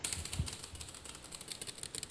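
Heavy typing on a computer keyboard during a Minecraft Skywars match, with rapid close clacks in uneven bursts and one louder thump.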